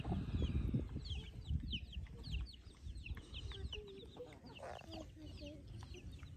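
A hen and her chicks clucking continuously in a farmyard, with busy low clucks and high chick peeps layered over each other, close and fairly loud throughout.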